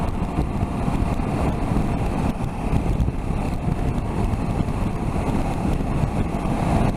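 A KTM 790 Adventure motorcycle cruises in 6th gear at about 65 miles an hour, giving a continuous, loud engine drone mixed with heavy wind roar and no talking.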